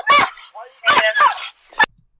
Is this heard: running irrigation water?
no